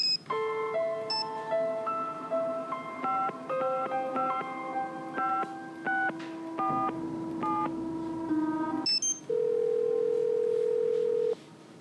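A telephone in the Nancy Drew: Secrets Can Kill game dials a number as a quick run of touch-tone beeps, followed by a steady held tone, clear and alone.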